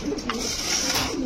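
Pigeons cooing up close, a pair kept by a breeder, their soft throaty coos rolling continuously and clearly over faint background noise.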